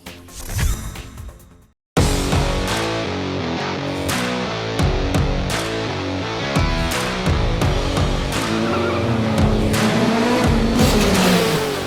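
A race car at a round of the 2020 Philippine Autocross Championship in Santa Rosa revs hard after a brief opening, its loud engine note rising and falling through repeated gear changes and bursts of acceleration.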